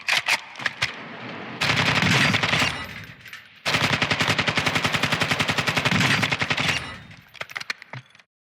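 Rapid automatic fire from an IGK30 rifle in Call of Duty DMZ comes in two long, loud, evenly spaced bursts, with short scattered shots before and after.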